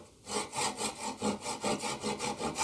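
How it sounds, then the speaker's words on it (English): A hand saw cuts a wooden dovetail in about ten quick, even back-and-forth strokes, rasping close and clear with no talking. "Angling the saw down until I just give it a little smooch"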